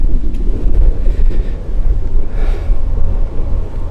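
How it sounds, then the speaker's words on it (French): Strong wind buffeting an outdoor microphone on an exposed height at dusk, a steady low roaring rumble with gusting swells throughout, loud and close with no speech. "Fait chier ce vent là."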